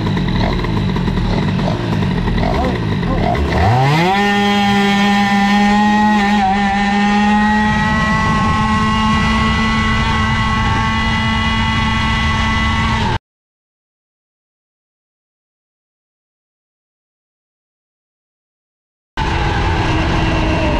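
A Metrakit 70 scooter engine runs loud and close, first a rough idle, then revving up to a steady high-pitched buzz that holds for several seconds before cutting out abruptly; after a stretch of silence it starts again.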